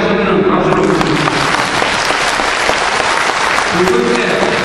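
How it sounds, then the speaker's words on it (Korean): An audience at a lecture in Daejeon breaks into sustained, loud applause that holds steady for several seconds, with a voice faintly underneath near the start and end. "여기에도 동의하시면 박수로 부탁드립니다."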